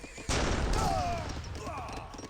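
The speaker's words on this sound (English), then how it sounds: "Oh, now got a pair of Gatling guns now put on the field." Gatling gun fire in the strategy game Age of Empires 3 during a battle, a sudden loud burst of rapid shots that continues as a dense volley, with a commentator talking over it.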